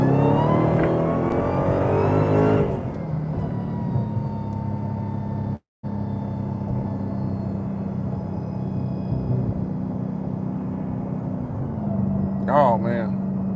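A Dodge Challenger SRT Demon 170 in stock automatic mode accelerates hard, its engine roaring loudly at first, then settling into a steady heavy rumble from inside the cabin, with a person talking near the end.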